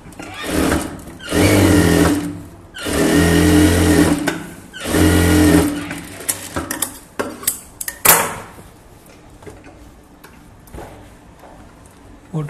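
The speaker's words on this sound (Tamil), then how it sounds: "இந்த லைனிங்க்கு கனெக்ட் பண்ணி தையல் போடுங்க" A sewing machine stitches chudithar lining in three loud, sustained whirring runs, followed by quieter clicks and handling noises as the fabric is adjusted.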